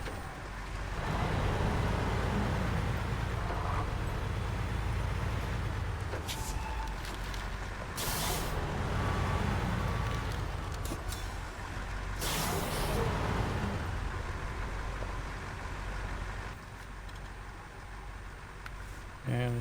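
A heavy truck's air brakes in the SnowRunner off-road driving game, with two sharp hissing bursts cutting through a steady low engine drone while someone talks over it.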